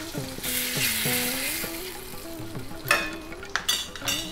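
Cashews frying in ghee for sweet pongal, a steady crackling sizzle with occasional stirring scrapes and clinks of a spoon against the pan, close and moderately loud.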